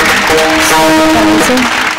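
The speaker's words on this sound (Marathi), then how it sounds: "एकदा परत एकदा जोरात टाळी वाजून" A kirtan audience claps loudly in a steady, dense wash of applause, with sustained musical tones running beneath it.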